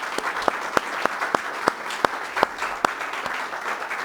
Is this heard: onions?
no